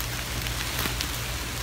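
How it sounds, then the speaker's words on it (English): Rain beginning to fall outdoors near an old house, a steady broadband patter of drops on surfaces at moderate level with no talk, brief louder drop hits scattered throughout. "It's actually starting to rain."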